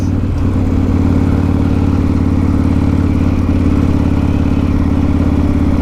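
A Harley-Davidson Fat Boy with a big 140 cubic inch V-twin, fitted with head decompression switches, runs close and loud at a steady idle, its deep lumpy rumble pulsing evenly throughout.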